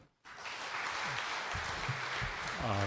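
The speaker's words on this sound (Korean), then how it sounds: "뜨거운 박수 부탁드리겠습니다" Sustained applause from a church assembly crowd fills the room after a quiet start, steady and fairly loud, with a few voices faintly audible beneath it.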